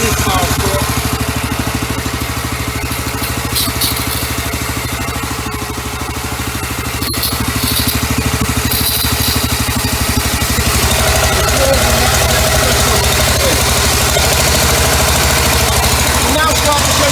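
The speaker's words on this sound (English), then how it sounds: "Turn the engine revs down." A pressure washer van's engine idles steadily with a continuous low rumble and mid-range drone, loud and close throughout, while other machinery hums alongside.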